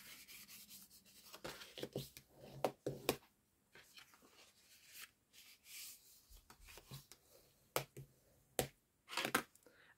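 Scored card is folded in half, giving repeated crisp creasing snaps and rubbing scrapes in irregular bursts, close and quiet with gaps between them.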